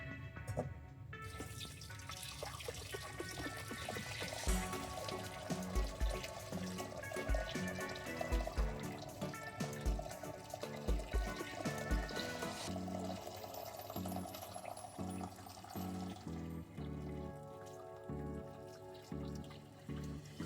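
Melted beeswax is poured into a bowl in a long, continuous liquid stream with soft trickling and dripping, quiet and close, and no talk over it.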